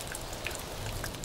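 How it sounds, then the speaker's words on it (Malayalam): Steady rain falls with scattered droplet ticks against a soft, even patter, faint and continuous with no voices. "നശിച്ച മഴയത്."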